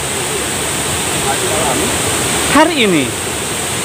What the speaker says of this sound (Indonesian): ini lokasi di mana air terjun Curug Ageng